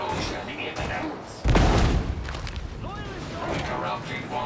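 A single heavy explosion booms in a sci-fi video game, with a sharp blast followed by rumbling debris and scattered crackles, while a voice speaks around it.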